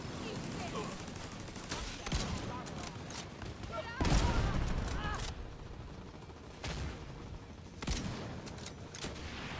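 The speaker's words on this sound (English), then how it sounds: "Hey, I shot at it, but nothing happened" Shooting in a video game raid mission: repeated bursts of gunfire and heavy impacts over a dense battle background, with players talking over it.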